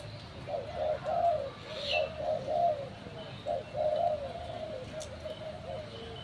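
A spotted dove coos repeatedly in a steady, low rhythmic two-note pattern outdoors, with faint chirps and a constant background hiss of ambient noise.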